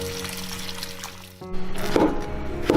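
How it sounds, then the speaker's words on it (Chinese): White beech mushrooms and shiitake being rinsed in water, with a steady pour and trickle of running water and a couple of brief splashes as the mushrooms are handled, close and moderately loud. "再来洗一些白玉菇跟冬菇"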